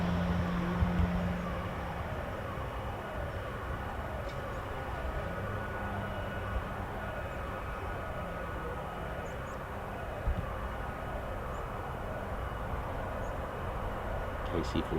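A KC-46 Pegasus tanker aircraft at RAF Mildenhall produces a steady, broad jet engine roar that holds at a fairly even level throughout, with no clear rise or fade.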